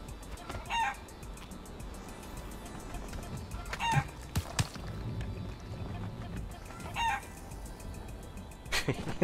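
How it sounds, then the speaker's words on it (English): A rooster in the game Conan Exiles clucks and crows in a few separate bursts spread over a low, steady background hum, fairly close and with no one talking. "I'm kinda liking this rooster."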